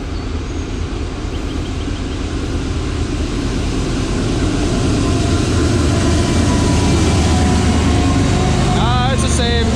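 A work train rolls past near a beaver-dammed creek, giving a steady heavy rumble with rail noise that holds loud throughout and a brief squeal at the very end.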